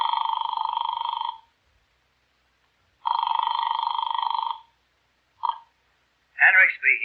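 A telephone rings in two long electronic trills with a pause between, followed by a click as the call connects, and then a voice starts speaking.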